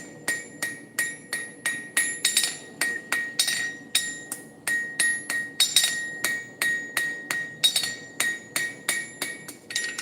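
A blacksmith hammers a square steel bar on an anvil, forging it into eight sides: a steady series of sharp, ringing metallic strikes, close and clear, each blow followed by a brief bright ring, with no talk.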